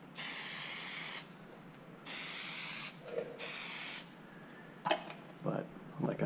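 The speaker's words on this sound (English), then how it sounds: "you want to do a spray from the top, a spray from the bottom" Three bursts of hissing Plasti Dip rubber coating spray from a can onto car badges, each lasting about a second, separated by pauses, followed by a few faint clicks and rustles near the microphone.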